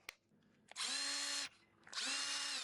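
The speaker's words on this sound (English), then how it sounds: "So here's the 1/4 impact wrench" Hart 1/4 impact wrench run in the hand with no load, two loud, steady motor whines, each about two-thirds of a second, starting after a small click and separated by a short pause.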